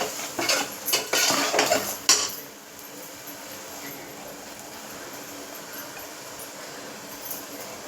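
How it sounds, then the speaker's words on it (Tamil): Mushroom biryani masala with yogurt fries in a pan while a spoon scrapes and clatters in quick strokes for about two seconds, then only a quiet, steady sizzle continues. "எல்லாம் நல்லா மிக்ஸ் பண்ணி நல்லா ஃப்ரை பண்ணுங்க."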